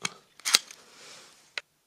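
Sharp metallic clicks and a short scraping slide as the barrel of an FN 502 pistol is pushed into place during reassembly, a few close, crisp hand-handled mechanical snaps spaced apart, with no talking.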